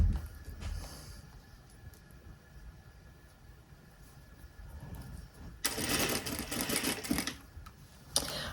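A sewing machine stitching blouse sleeves starts up after a long quiet stretch, running with a steady close mechanical whir for a few seconds, preceded by faint handling sounds.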